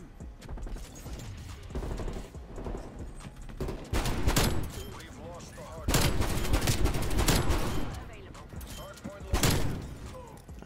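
Gunfire in the video game Call of Duty Cold War comes in loud, dense automatic bursts, growing heaviest midway and flaring again near the end, with talk in the background.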